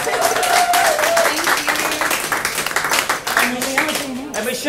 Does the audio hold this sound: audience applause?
yes